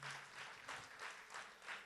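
Audience applause at a Tamil association's Navaratri festival in Kuwait, a steady wash of clapping with rhythmic swells, moderately loud and continuous, no voices over it.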